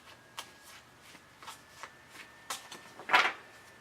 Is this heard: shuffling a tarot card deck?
yes